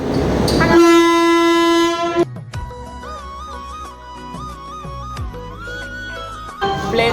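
A passenger train sounds a long, loud horn blast, then rolls on with a rumbling rail noise and a shifting tonal whine, and a second rise in noise comes near the end.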